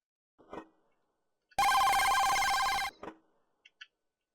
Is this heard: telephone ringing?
yes